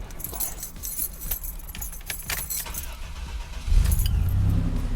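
Keys jangle close by for several seconds, then the turbocharged engine of a 1987 Buick Grand National cranks and catches, settling into a loud, deep idle.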